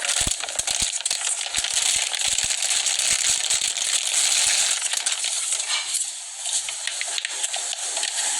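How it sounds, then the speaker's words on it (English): Crinkly plastic and cardboard packaging rustles and crackles steadily around a PS5 game controller being unwrapped, with scattered sharp snaps and taps early on, close and fairly loud, no talking. "Like, I'm gonna unwrap this controller."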